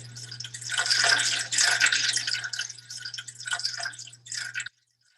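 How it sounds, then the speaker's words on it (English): Room temperature water pours steadily into a tub standing in for an ocean in a classroom currents demonstration, a bright continuous splashing stream with a faint low hum beneath, stopping abruptly near the end. "We carefully fill the tub with room temperature water."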